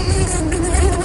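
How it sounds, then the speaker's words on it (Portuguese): A mosquito buzzing in a video game, a thin steady whine holding one pitch throughout, close and fairly loud with no talk over it. "Tá um mosquito dos desenhos."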